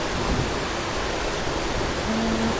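Rain pours steadily in a Thai outdoor setting, a dense, even hiss that stays at a constant loudness throughout with no talk.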